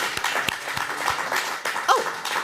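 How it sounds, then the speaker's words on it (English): Audience at a holiday zine party clapping for the writers who shared work, scattered claps with a dog barking briefly near the end. "So round of applause for them"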